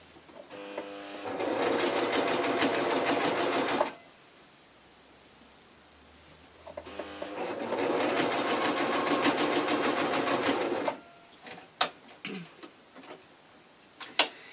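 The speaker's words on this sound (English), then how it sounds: "I'm going to sew very carefully just along this nice red seam here" A sewing machine stitches along a seam on a T-shirt, running in two steady, close bursts of rapid mechanical whirring separated by a pause, then a few clicks and clunks as the needle and foot are adjusted.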